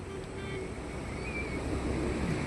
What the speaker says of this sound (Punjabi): ਪਾਣੀ ਆਪਣੀ ਫੁੱਲ ਸਪੀਡ ਨਾਲ ਵਧਦਾ ਹੋਇਆ ਆ